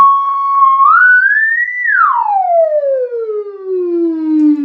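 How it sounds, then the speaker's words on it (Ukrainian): Tone from a frequency generator and amplifier played through a repaired Arcus TL200 speaker with its burnt coil replaced: a steady loud tone sweeps upward, then glides smoothly down in a long siren-like fall, alone with no talk. "Там спеціальний генератор з підсилювачем. Генератор частоти."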